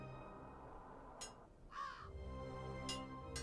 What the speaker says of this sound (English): Oh, it was a bird